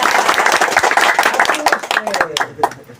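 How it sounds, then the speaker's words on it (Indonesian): Scattered audience clapping breaks out during a podcast conversation, a quick patter of hands that stays fairly close and fades after about three seconds, with voices talking over and around it. "Tepuk tangan pemirsa."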